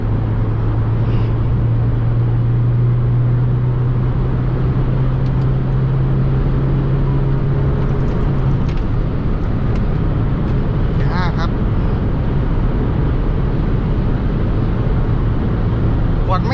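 Remapped Isuzu All New 3.0 pickup engine running in fourth gear, a loud, constant low drone with a steady hum that shifts pitch partway through, heard from inside the cab.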